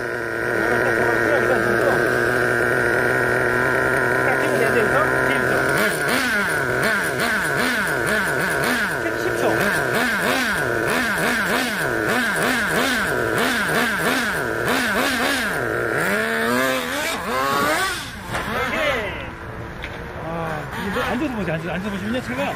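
Nitro Slash RC car engine starting and revving: a high, buzzy small engine idling steadily, then repeatedly blipped in rhythmic revs and surges, loud and close throughout.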